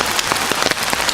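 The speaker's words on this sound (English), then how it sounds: "This shows how much it rains over here." Rain pouring outside a museum in New York City, a steady broadband patter with scattered louder drops and splashes, close and continuous throughout, with no voices.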